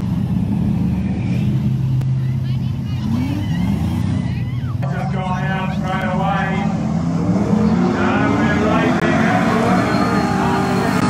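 Race cars starting a heat at Gympie, a loud field of engines revving and accelerating away close by, droning and rising in pitch, with a voice talking over them.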